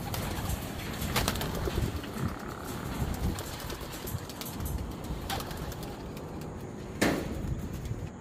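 Racing pigeons at a loft, with soft cooing and bird calls spread through an outdoor ambience, plus a few brief flapping or clattering sounds near the end.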